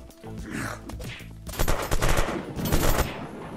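Semi-automatic gunfire in the survival game Unturned: a quick run of loud, close, separate shots that grows denser over a few seconds.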